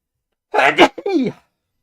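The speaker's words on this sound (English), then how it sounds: "I need to sneeze as well." A single loud, close sneeze with a sharp intake and burst, followed by a brief vocal trailing sound.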